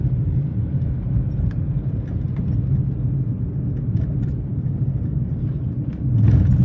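A car engine runs steadily close by, a continuous low rumbling drone that swells slightly near the end, with no voices.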